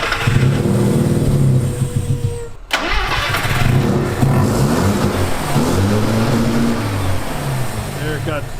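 A Mazda rotary pickup engine with its throttle stuck open after a Holley carb and intake swap, cranking then catching and revving hard in a loud, sustained rising roar close by, with a voice talking over it.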